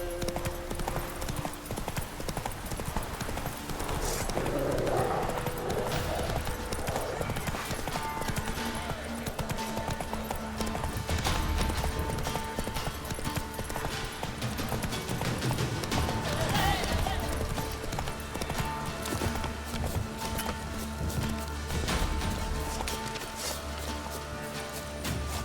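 A horse gallops across open country in The Witcher 3: Wild Hunt, rapid rhythmic hoofbeats running steadily throughout, with game ambience and a brief spoken line from a rider.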